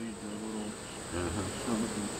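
Honey bees buzz in an open hive during a beekeeping inspection, a soft, continuous insect hum with a few brief louder swells, close but faint and heard alone.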